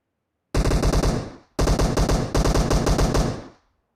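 Automatic weapon fire in the mobile game PUBG Mobile: three loud, rapid bursts of close-range shots, the first about a second long and the last longest, each one cut off sharply.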